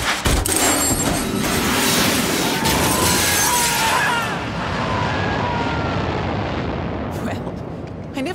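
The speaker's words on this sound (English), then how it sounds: "pull the ejector seat handle" A jet's ejector seat fires in the HITMAN video game, bursting out as a loud blast followed by a sustained roaring rush that slowly fades over several seconds.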